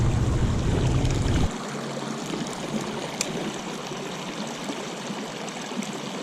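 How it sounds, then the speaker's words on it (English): Creek water flowing over rocks makes a steady, faint, close wash and trickle; a louder low rumble in the first second and a half stops abruptly. "this side of the creek is not moving, and then of course it goes over these rocks and it starts moving again"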